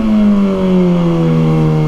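A 2023 Kawasaki ZX-6R engine holds a loud, steady high-revving drone during a wheelie, a sustained close engine tone with a slight pitch drift over about two seconds.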